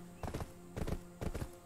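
A tier 8 horse in the Black Desert Online video game trots with crisp clip-clop hoofbeats in three quick bursts of several steps each, close and clear over a faint steady background.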